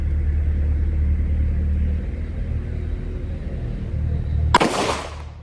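A single sharp handgun shot at an outdoor range while a red dot sight is being zeroed, bursting out near the end over a steady low rumble of background noise.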